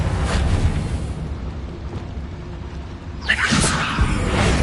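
A Bombarda spell explosion in Hogwarts Legacy, heard as a loud burst with a whooshing blast after a stretch of rumbling background, and a further thud close behind.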